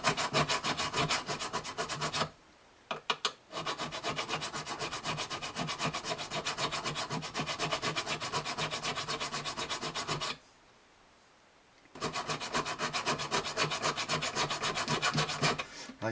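Abrasive sanding on the frets of a Gibson Southern Jumbo acoustic guitar: a steady, close, rhythmic back-and-forth scrubbing that runs continuously, broken by two short pauses, with no talking.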